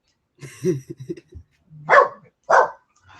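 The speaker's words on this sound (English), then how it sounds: "I know that you can't hear me when he's barking." A dog barks a few times in short, loud bursts after someone speaks briefly close to the microphone.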